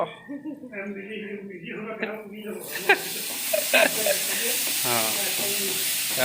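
Onion and chillies frying in oil, a steady close hiss and sizzle rising partway through with a few spoon clinks, while a person talks over it.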